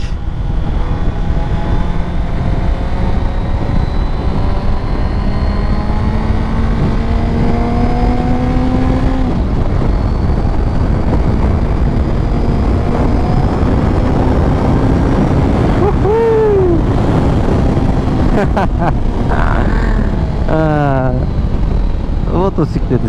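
A four-cylinder car engine revs loudly and up close, its pitch climbing and falling in a sustained drone with a few sharp throttle blips near the end, while people talk over it.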